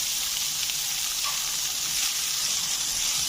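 Sliced chicken sautéing in a pan, giving a steady, even sizzle and hiss of frying that holds throughout with no pauses, close by and with no one speaking.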